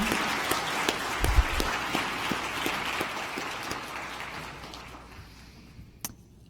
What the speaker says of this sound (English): let's please have one final round of applause for the contestants